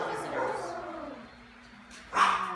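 Dogs bark and yip indoors at an animal rescue sanctuary, a few close, sharp barks with a louder burst near the end, heard amid voices in the room.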